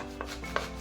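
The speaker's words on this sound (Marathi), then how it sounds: "बघा आई कशी चिरते ती मेथीची भाजी" Fenugreek leaves are chopped finely with a sharp sickle blade: quiet, close rubbing and slicing with two soft cuts over a steady low hum, no voices.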